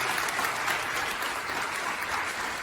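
Steady, moderately loud applause fills the room from the audience at a one-day Theatre in Education workshop at GHG Khalsa College, a continuous even patter of many hands.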